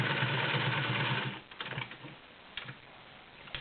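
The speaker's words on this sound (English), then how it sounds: "This is 8 layers of woven upholstery." Singer 603 Touch & Sew all-metal, gear-driven sewing machine stitching through eight layers of coarse woven upholstery fabric: a steady close mechanical whir for about a second and a half, then it slows into a few separate uneven stitch clatters.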